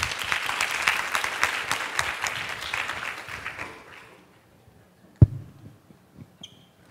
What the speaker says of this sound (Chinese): 来，我们掌声欢迎。